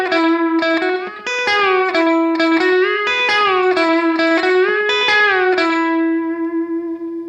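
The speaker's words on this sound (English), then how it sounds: "So the next chicken picking technique, it's kind of a pedal steel inspired lick." An electric guitar plays a pedal-steel-style chicken-picking lick, plucking notes around a held string bend and then releasing it, clear twangy picked tones with slight effects, alone and close, ringing out at the end.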